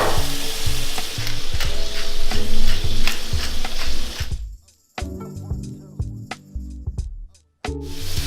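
Mushrooms simmering in oat porter, bubbling and sizzling loudly in a hot pan for several seconds, then the sizzle cuts out and returns in quieter bursts with clinks and rattles.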